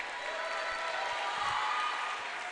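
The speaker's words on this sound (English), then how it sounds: "everybody giving Shanda a nice applause" Crowd applause in a high school gym during a Centerburg at East Knox volleyball match, a steady, dense wash of clapping that holds evenly for a couple of seconds.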